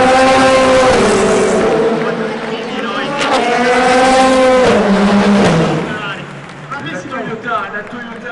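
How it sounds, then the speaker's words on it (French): The number 8 Toyota race car crossing the finish line at the Le Mans centenary, a loud, close engine whine that climbs and then drops in pitch as it passes, with crowd noise and voices trailing behind. "La Toyota numéro 8 passe la ligne d'arrivée"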